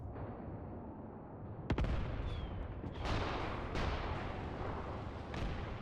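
Tank guns firing in the Mius Front wargame, with several heavy booming shots spaced a second or so apart over a steady rumbling battlefield background.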